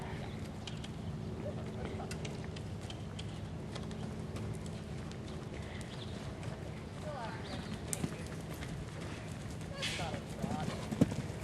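During a riding lesson, a mare canters with a rhythmic, moderately distant drumming of hoofbeats under ongoing outdoor ambience, and someone talks over it.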